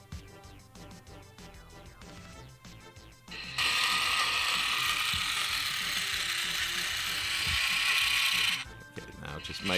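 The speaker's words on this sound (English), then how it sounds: "Now just making sure everything's turning the way it should be." Plastic gears in a 1980s Tomy Kongman mechanical Donkey Kong gearbox whirring steadily after reassembly, a loud continuous buzzing run of several seconds preceded and followed by quieter clicking handling noises.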